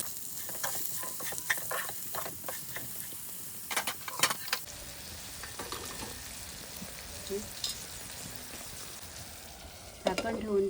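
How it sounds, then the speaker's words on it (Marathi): A mango and jaggery gulamba mixture sautés in a pan with a soft, quiet sizzle, repeated spoon scrapes and stirring clicks, and a faint background hiss. "छान असं परतून घेते"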